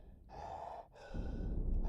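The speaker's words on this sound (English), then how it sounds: "And what on earth is this breathing?" Heavy breathing in the Red Haze video game, one long gasping inhale followed by a rougher, louder exhale, close and alone with no talk.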